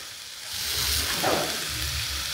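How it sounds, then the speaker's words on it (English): Shrimp hit hot oil in a wok for char kway teow, with a bright, rising sizzle that swells after half a second and then hisses steadily, joined by faint stirring, with no voices. "Now we're going to add some shrimp"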